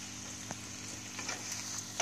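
Quiet stirring of a masala with coriander powder and green chili in a pan, with a soft steady sizzle and a few faint scrapes and clicks from the spoon.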